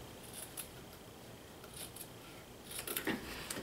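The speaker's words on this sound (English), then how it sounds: "But I can cut that with scissors right there." Scissors snip through loose fabric in a few quick, close cuts, with soft shuffling and handling noises in a quiet room.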